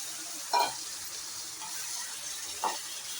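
Chicken being mixed with curd and masala in a hot pan: a soft, steady sizzle with two brief scraping stirs, fairly quiet and close, with no talking.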